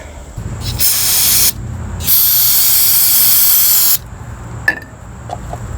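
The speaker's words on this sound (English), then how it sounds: "Just using a wire brush, parts cleaner." Aerosol parts cleaner sprayed on a steel part of a Ryobi EX-26 two-cycle curved shaft yard trimmer, heard as two loud close hissing bursts, a short one and then a longer steady blast of about two seconds, followed by quiet handling.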